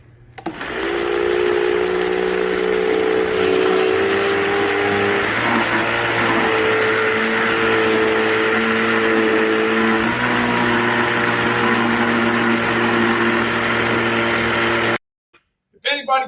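An ice cream maker churns a mix with Heath bar pieces and almonds, a loud steady motor whine with shifting pitch, like an outboard motor, running for about fifteen seconds before cutting off abruptly.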